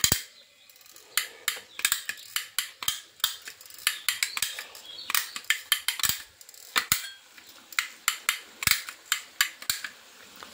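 Karapusa dough frying in hot oil over a medium flame, giving a dense run of sharp crackles and pops that come in quick clusters and stand out clearly over a quiet kitchen.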